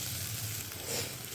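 Onions sizzle steadily in a pan over a high flame, a close, even crackle with no voices heard.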